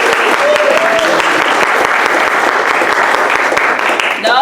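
Audience applause for Tanya Diaz, secretary of Greenfield, California LULAC, at a memorial scholarship award dinner: loud, dense clapping from a crowded room, steady throughout, with a few voices and a brief cheer rising near the end.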